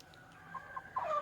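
Native country chickens cluck in a few short, faint calls, building to a busier burst of clucking at the end over quiet farmyard background.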